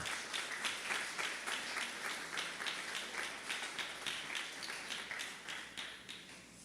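A church congregation applauds together, a steady, dense patter of many hands clapping in a rhythmic pulse that fills the room at moderate level throughout, with no speech over it.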